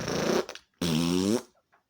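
A voice imitates a fart on a sofa in two bursts, a short sputter followed by a longer, buzzy, tonal blat, close to the microphone in a quiet room.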